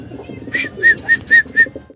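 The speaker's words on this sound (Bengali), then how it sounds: "এই যে হাই ফিলার কবুতর" High flyer pigeons call close by in a series of four short, evenly spaced tonal coos that rise out of a low murmur of background noise.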